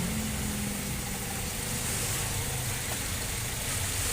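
A Daihatsu Luxio 1500cc manual with an upgraded Suos exhaust idling nearby: a steady, rough, rumbling engine drone with a hissy wash over it that continues evenly throughout, with no voices.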